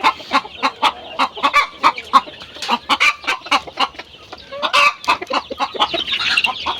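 Large pure-bred native Bengali chickens cluck in a rapid, irregular series of close, loud calls overlapping one another, with no talking.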